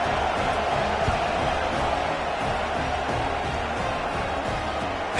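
Stadium crowd in a football video game: a steady, dense wash of distant crowd murmur and noise that holds evenly throughout, with no distinct cheers and no commentary.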